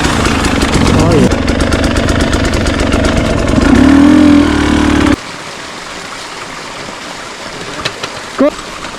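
A KTM 300 two-stroke enduro motorcycle engine idles and revs loudly up close during a hillclimb session, running steadily for about five seconds before dropping to a quieter rumble with brief blips, as people talk nearby.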